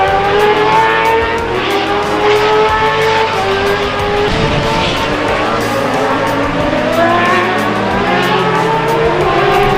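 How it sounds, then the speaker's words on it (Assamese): A motorbike ridden fast along a smooth road in Morigaon district, Assam, at around 80–90 km/h: a loud, continuous engine roar with rising and falling pitch sweeps as the throttle changes, heard close up throughout. "সুন্দৰ এটা ধুনীয়া ৰাস্তাত পুৰা বাইক দৌৰুৱাই দিলোঁ"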